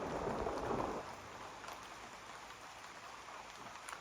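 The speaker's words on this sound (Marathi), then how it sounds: "बारीक बारीक पाऊस आहे" Light drizzle in a Konkan village during the monsoon, a soft steady patter, louder for the first second and then fading to a faint hiss, with no talk.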